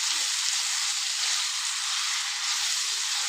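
Turmeric and spices fry in hot oil for ivy gourd chutney, giving a steady, close, even sizzle with no talking.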